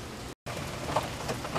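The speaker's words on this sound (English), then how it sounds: "it's starting to rain pretty hard here" Heavy rain falls steadily as a soft, even hiss with scattered drops, faint and distant, briefly cut to silence for a moment before resuming.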